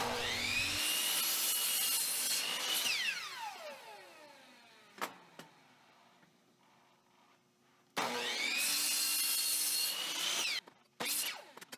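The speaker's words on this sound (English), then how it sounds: "we go to the chop saw and trim all of the ends to make sure the blocks are the same size" A chop saw trims the ends of pallet wood blocks: two loud cuts, each with a motor spin-up, a whining blade through wood and a long wind-down, plus a few sharp knocks between them.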